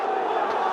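Crowd at a Bangladesh versus West Indies T20 cricket match, a broad wash of massed voices getting vocal, heard at a distance under a commentator's talk.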